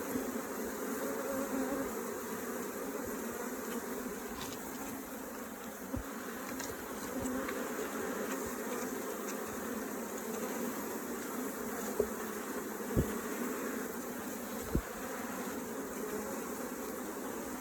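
Honeybees hum in a steady, dense drone around a donated top bar hive, close and continuous for the whole stretch, with a few faint knocks and no talking.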